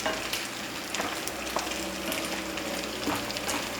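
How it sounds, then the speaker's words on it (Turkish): Steady, close sizzling and crackling of chicken liver frying in a pan, with faint stirring or scraping now and then; no voices. "Bir dakika daha, iki dakika daha kızartacağım."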